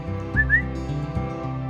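A person whistles a couple of short rising notes, clear and close, over a steady background of sustained game music tones.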